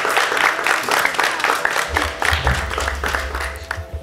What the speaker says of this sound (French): On va applaudir Terence.